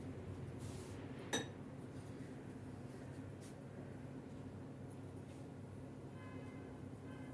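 A spoon clinks once against dishes in a home kitchen while aubergines are being prepared, one bright clink over a low steady background hum, with a few faint taps after it.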